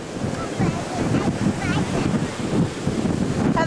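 Waves roll and break at a beach while wind buffets the microphone, a loud continuous roar with gusty surges and a faint voice briefly audible.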